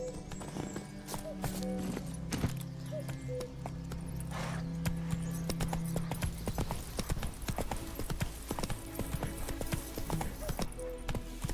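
Hooves of Roach, the horse in The Witcher 3: Wild Hunt, clip-clop in a quick, steady rhythm, close and clear, with a brief whinny and faint game sounds around them.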